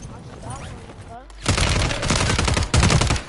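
Rapid automatic gunfire from a shooter video game, loud and dense bursts after a quieter opening with game sounds, continuing for about two seconds with a sharp surge near the end.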